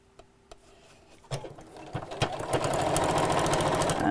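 A sewing machine stitches down the sides of a chair cushion, the motor starting after a few light clicks and building into a steady, close whir that runs on to the end.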